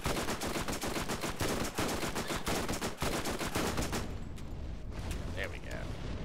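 Rapid bursts of automatic gunfire in the shooter game Borderlands, dense repeated shots for about four seconds, then stopping into quieter game sounds.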